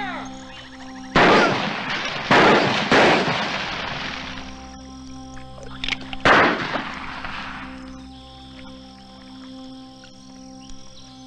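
Rifles firing in a 1986 Cajun western film scene, a few loud, close shots in a quick volley, then a later single shot over a steady background hum.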